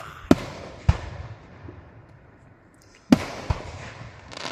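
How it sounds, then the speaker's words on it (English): Sharp booming bursts of fireworks at a fireworks night, several loud cracks spaced a second or more apart with crackling trails fading between them. "Red and blue and green, yellow fireworks, and red and green fireworks."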